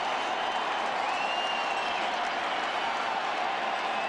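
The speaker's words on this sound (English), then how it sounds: "This crowd is they are putting out some energy at the moment" A baseball crowd at Game Seven of the 2011 World Series between the Rangers and Cardinals roars with sustained cheering and applause, a dense, loud, unbroken wash of clapping and voices.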